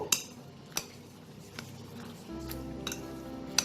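Spoon clinks against a bowl while soya chunks are mixed with salt and Kashmiri chili powder, a few sharp metallic taps spaced out over soft stirring and a low background hum.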